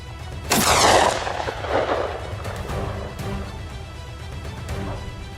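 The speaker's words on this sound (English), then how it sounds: "Instantly, a sharp gunshot rang out." A single sharp gunshot cracks loudly and close during a wild boar hunt on open grassland, followed by a fading echo and quieter rustling outdoors.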